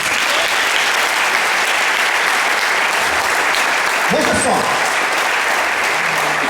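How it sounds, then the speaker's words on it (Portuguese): Church congregation applauds loudly and continuously, a dense, sustained roar of clapping from a large gathering, with someone speaking briefly over it partway through. "Se você recebe isso, dê uma salva de palmas"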